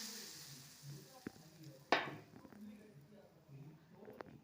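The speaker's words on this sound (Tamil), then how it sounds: "எண்ணெய் காஞ்சதும் வடவத்தை போட்டு, வடவம் பொரிஞ்சதும் குழம்புல கொட்டிக்கலாம்." Vadavam drops into hot oil for a dried-fish kuzhambu and fries with a soft, steady sizzle, broken by one sharp crackling spurt midway, all fairly faint.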